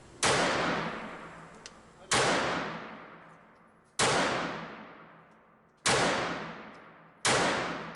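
Five loud, sharp shots from a Kel-Tec P-3AT .380 ACP semi-automatic pistol, fired one at a time about two seconds apart. Each crack leaves a long decaying echo, as if fired at a range.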